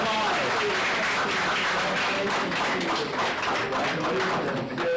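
An audience at a board meeting claps steadily for students throughout, a dense wash of applause with a voice briefly audible beneath it.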